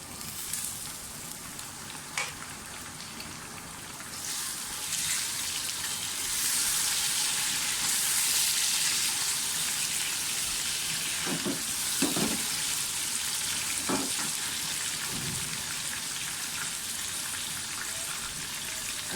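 Mutton fries in a pan for bhuna gosht, a continuous sizzle that swells as the meat goes in, with a few scrapes and knocks from stirring. Nobody speaks.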